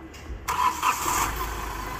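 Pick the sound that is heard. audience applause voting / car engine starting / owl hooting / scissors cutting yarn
car engine starting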